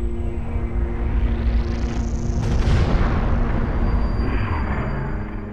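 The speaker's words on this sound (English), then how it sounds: "The wave accelerates out the core and explodes into the star." Supernova explosion sound effect of a star blowing apart: a rising whoosh that swells over two seconds into a loud deep boom, followed by a long rumbling roar that slowly fades.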